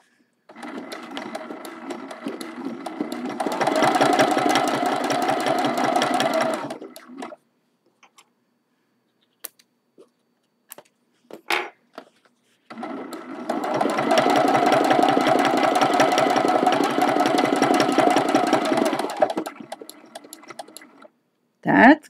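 A quilting sewing machine stitches a watering can mug rug in two long, steady runs of rapid needle chatter, close and even, separated by a quiet pause with a few clicks while the needle is raised.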